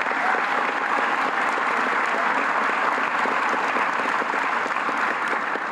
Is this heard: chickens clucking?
no